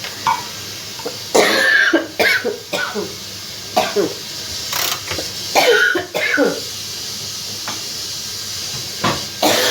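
Several harsh coughs and throat clearing in bursts from a sick person, close to the microphone, with quiet pauses between and a faint hiss behind.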